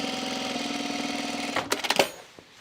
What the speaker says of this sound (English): I think I'm going to stitch the seam allowance down so it's nice and flat.